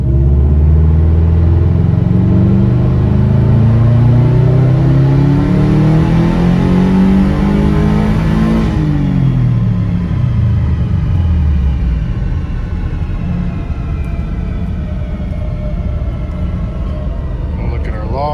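A car on a dynamometer during a tuning pull, its engine revving up with steadily climbing pitch, then the throttle is released and the engine winds down and settles to a lower rumble, loud and close.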